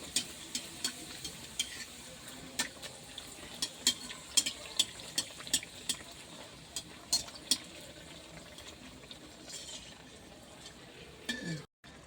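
Kachori frying in hot, reddening oil, a steady soft bubbling hiss broken by a run of sharp crackles and pops, close and fairly quiet, ending in a short louder rustle.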